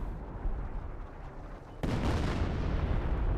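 Explosions rumble in the video game Company of Heroes, a low continuous boom that jumps suddenly louder partway through and then holds as a dense roar.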